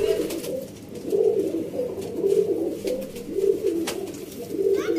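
Steady, low cooing from a large pigeon repeats in soft rolling phrases, close by, with faint background noise and no talking.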